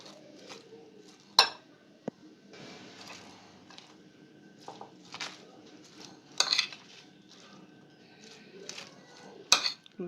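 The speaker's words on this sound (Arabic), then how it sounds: "كده ايه قلبنا المايونيز كده كويس" Quiet scraping and clinking of a spoon stirring mayonnaise in a bowl, with a few sharper clicks of utensil on dish scattered through.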